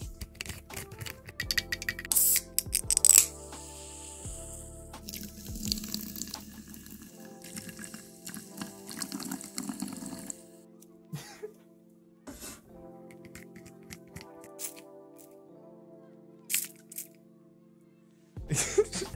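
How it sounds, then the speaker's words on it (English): Tap water running into a bath, splashing in bursts among clicks, knocks and the clatter of bathroom items, with brief pauses and a few throat-clearing sounds, all close and intimate. "you decide to take a quick bath"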